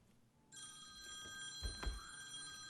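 At a city council meeting, a telephone rings with a steady electronic tone that starts abruptly and continues, with a couple of low thumps partway through.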